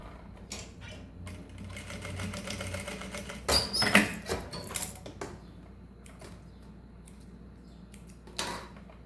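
A sewing machine stitches a mesh fabric pouch in close, rapid mechanical bursts of whirring and needle clatter separated by short pauses.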